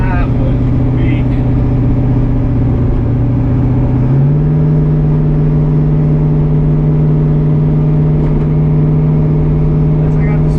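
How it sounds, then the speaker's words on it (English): A car doing a short, weak burnout, its engine droning steadily and stepping up in pitch partway through, loud and close with a voice briefly heard over it. "That was a little weak burnout though."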